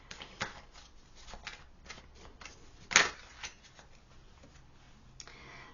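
Tarot cards being shuffled by hand, a quiet run of soft riffling flicks and taps with one sharper snap near the middle, close and alone with no talking.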